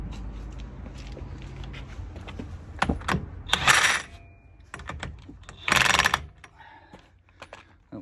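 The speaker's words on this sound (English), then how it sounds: "This one I'm actually going to tighten as much as I can to stop the drive shaft moving." A ratchet tightening a bolt during front coilover and suspension fitting on a VW T5 van clicks in two short bursts, close by, among scattered metallic taps and handling noises.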